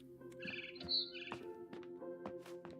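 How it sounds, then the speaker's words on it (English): A barn swallow chirping in the game What Remains of Edith Finch, a series of short bright tweets and trills over a soft ambient hum, fairly close and clear with no talking. "It was a barn swallow going back to her nest."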